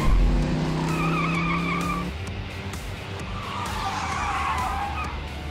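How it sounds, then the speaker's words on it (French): A car skids with a sharp tire squeal and engine whine for about two seconds, then loud road and engine noise carries on with a second, rougher squeal later. "D'où elle sort, cette voiture?"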